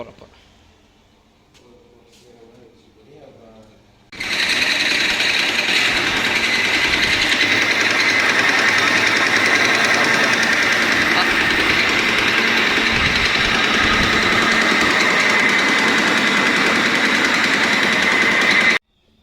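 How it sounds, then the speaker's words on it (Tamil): A flour grinding mill machine for wheat flour starts up abruptly after a faint quiet stretch and then runs loud and steady with a constant mechanical whine and roar, close by and unbroken to the end. "அது கோதுமை மாவு அரைக்கிற மிஷினு"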